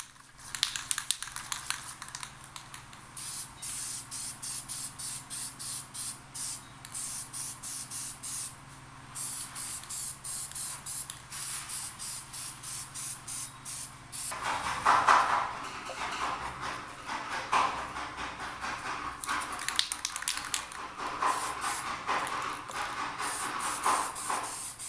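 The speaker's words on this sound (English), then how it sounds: "I'm just going to hit them with some rust proofing primer and then throw a coat of black paint on them" Rust-Oleum rust reformer is sprayed from an aerosol can onto truck leaf springs, in a long run of short, evenly spaced hissing bursts. The pattern turns denser and more irregular partway through, with no talking.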